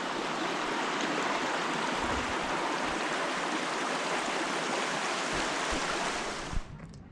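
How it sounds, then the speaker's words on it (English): A muddy creek flows beside the Timberline Trail on Mount Hood, making a steady, close rush of water that fills the whole clip and cuts off abruptly near the end. "That looks like a muddy creek right there."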